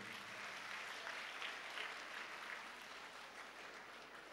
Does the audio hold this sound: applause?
yes